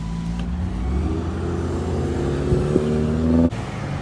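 The engine of a Dodge Journey rental car idles steadily up close, a low, even hum with a brief click near the end.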